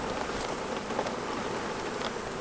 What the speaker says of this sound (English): I got all the bees in one corner